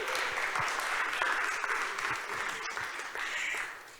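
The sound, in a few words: audience applause at event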